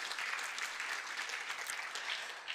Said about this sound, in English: Can we clap hands for Dr.